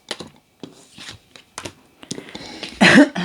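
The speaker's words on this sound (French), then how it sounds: "Je tousse." A few short, rough coughs scattered through the clip, close to the mic, ending in a louder, harsher burst.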